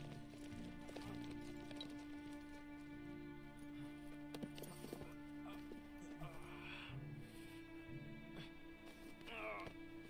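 Steady clip-clop of horse hooves trotting in Red Dead Redemption 2 on PS5, under game music and ambient noise, with a voice speaking over parts of it.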